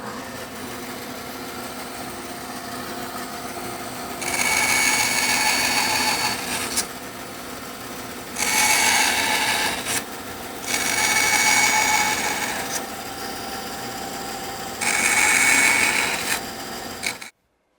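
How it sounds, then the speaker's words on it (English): Bandsaw cutting waste from a dovetail tailboard: four loud bursts of blade noise, each a few seconds long, rise over a steady machine hum and drop back between cuts. "I use the bandsaw for a board this size."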